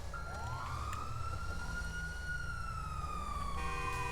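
A police siren in the GTA RP video game during a car chase, a continuous rising and falling wail heard steadily over a low engine rumble.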